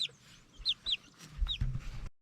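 Farm chickens of mixed breed cluck in short, close bursts outdoors, a handful of quick soft calls over a quiet background.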